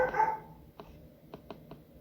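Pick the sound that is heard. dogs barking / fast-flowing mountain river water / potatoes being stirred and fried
dogs barking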